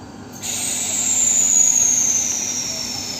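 A train pulls out of Mecheda station at night, a sustained hiss with a high whistling tone that rises in level then slowly falls and fades over a few seconds.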